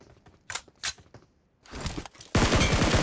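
Gunfire from the PUBG Mobile battle royale game: a few sharp single shots, then a denser burst and a loud sustained volley of rapid fire at the end, all up close with no talking.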